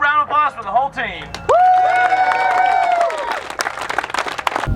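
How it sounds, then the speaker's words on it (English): Crowd at the end of a Gambler 500 rally event claps and cheers for the whole team after a short burst of speech, mixed with a loud sustained tonal sound and scattered sharp claps. "round of applause for the whole team"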